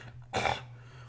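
A single short, harsh throat burst like a cough or choke, made by a voice imitating choking, brief and close.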